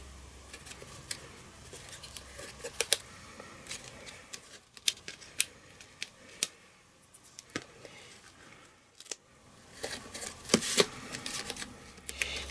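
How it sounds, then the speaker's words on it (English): Scissors snipping card for a handmade anniversary card, scattered faint crisp cuts and light paper handling sounds close by, with no talking. "so I'm going to have to snip a bit off"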